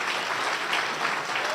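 A church congregation claps together in steady, dense applause that fills the whole short stretch at an even level.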